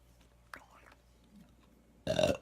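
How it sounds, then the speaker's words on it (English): A man's burp bursts out loud and brief near the end, after a stretch of quiet room noise with a faint click. "Got the burps."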